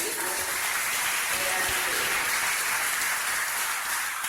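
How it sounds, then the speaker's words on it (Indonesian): An audience bursts into dense, steady applause throughout at a motivational seminar, the clapping loud and even from start to finish. "Tepuk tangan buat yang tanya."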